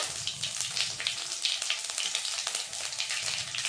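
Cumin and nigella seeds dropped into hot mustard oil in a kadai, giving a steady close crackling sizzle with fine spitting pops throughout and no talking.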